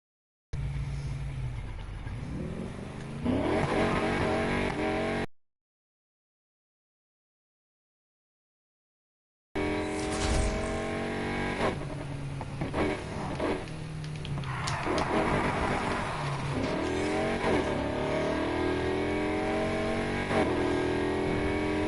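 In Need for Speed Heat, a car engine revs hard and climbs through the gears with rising and falling pitch sweeps, loud and close, broken by a few seconds of silence before it roars again.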